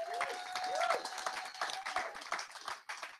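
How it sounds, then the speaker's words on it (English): At a London web-performance meetup of lightning talks, an audience gives a moderate round of applause with distinct individual claps. Voices and a whistle-like tone sound over it, and it tapers off. "So give a nice round of applause to Dora, and she's going to"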